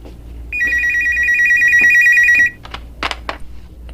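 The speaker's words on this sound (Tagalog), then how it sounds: "Ang telepono." A telephone rings with a loud electronic trill lasting about two seconds, followed by a few sharp knocks and clatters nearby.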